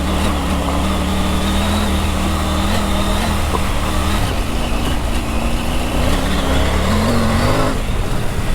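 Triumph Tiger 900 Rally Pro motorcycle engine running steadily and loud, with pitch dips and rises as gears change through the quick shifter, riding on and off road.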